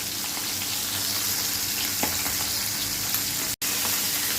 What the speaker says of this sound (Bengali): খুব ভালোভাবে সুন্দর করে এই মাছটাকে ফ্রাই করতে হবে।